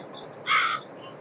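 A single harsh crow caw in the Meena 2 video game, short, loud and close over a quiet background.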